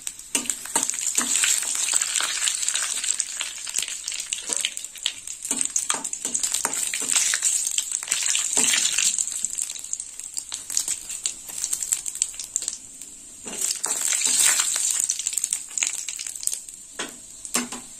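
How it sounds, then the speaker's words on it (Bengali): Bengali five-spice tempering with two bay leaves and two dried chillies sizzles and crackles in hot oil in a pan, a continuous close frying hiss with scattered pops and occasional stirring, no voices. "ফোড়নটা একটু ভাজা হয়ে যাক।"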